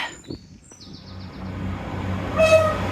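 A train rumbles past by the beach at Dawlish, growing louder, with a horn sounding briefly near the end and birds chirping faintly early on.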